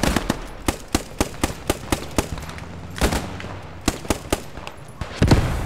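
Rapid gunfire in the Post Scriptum video game's Battle of France, a string of sharp, regularly spaced shots fired close by, followed by a denser burst near the end.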